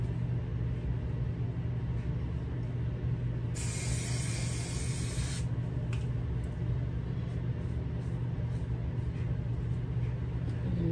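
A spray can of wig adhesive puts out a steady loud hiss for about two seconds, a second coat applied over a constant low room rumble.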